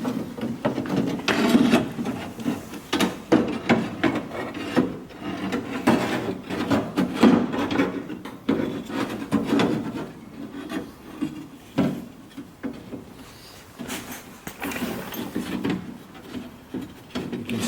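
A window regulator slider is jiggled loose and pulled out from inside a car door, producing close, irregular scraping, rubbing and knocking of plastic and metal parts for several seconds.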